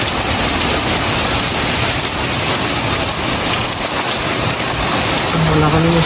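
Heavy rain pours steadily in Canada, a loud, dense continuous wash with no pauses, a brief faint tonal sound rising near the end.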